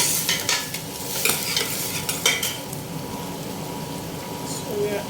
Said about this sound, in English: just halfly fried. Stir for like 2 minutes.